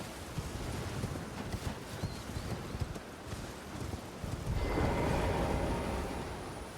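Hooves clip-clop steadily from a horse in a video game, a rhythmic close thudding that continues throughout, joined near the end by a broader rushing swell.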